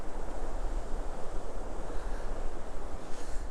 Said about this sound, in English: get out of this wind